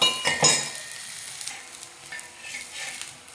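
Flatbread with coconut and herbs sizzling in oil on a pan after being flipped, a steady soft frying hiss with a few brief clinks and scrapes of a utensil near the start.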